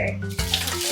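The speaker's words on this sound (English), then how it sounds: "Now let's go ahead and fill up the water." Water runs from a tap into a bottle for a color-changing Barbie doll, a short close splashing flow with faint tonal hum.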